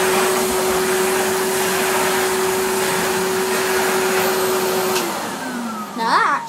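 A Numatic Henry vacuum cleaner running on straight suction gives a steady loud whine and airflow roar, then winds down near the end as the motor note drops and shifts.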